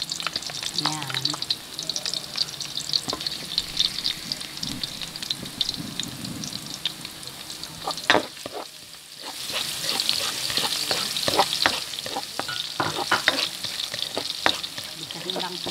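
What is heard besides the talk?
six garlic cloves frying in hot oil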